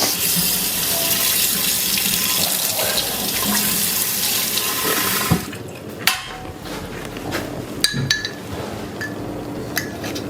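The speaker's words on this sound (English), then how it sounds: "I have to rinse this off." Water runs steadily from a kitchen tap for several seconds to rinse a homemade spiked cherry, then shuts off, followed by scattered clinks of glass and dishes nearby.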